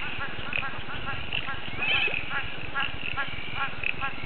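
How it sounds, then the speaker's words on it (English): Horses neigh and whinny outdoors in flood country west of Toowoomba near Leyburn, with hoof clip-clop and several loud calls over a steady rushing background. "There's a couple of horses over there"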